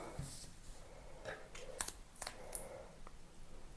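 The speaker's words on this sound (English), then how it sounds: "So I'm just going to measure this up and cut it to size." Scissors snip through foam tape being cut to size for a handmade donut birthday card, a few short close crisp cuts with light handling rustle between them.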